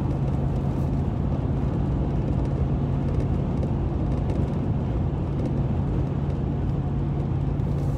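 Steady low road rumble inside a moving car, a constant engine and tyre drone with a faint hum, even and unbroken for the whole stretch, with no talk.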